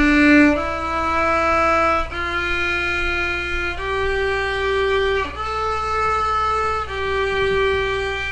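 Bowed violin played as a beginner exercise, sustained notes using a low second finger placed tight against the first finger, sounding as a slow series of about six steady, clear notes in a row with no talking.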